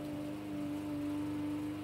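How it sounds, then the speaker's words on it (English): A lawn mower running outside with a steady droning engine hum, continuous and fairly distant, with no talking over it. "I apologize for the lawnmower because we have to get this done"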